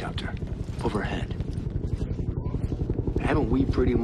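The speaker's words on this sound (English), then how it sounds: "Hear that? Helicopter. Overhead." Helicopter rotor chopping overhead in the video game Army of Two: The Devil's Cartel, a steady low pulsing thud running throughout beneath voices and game effects.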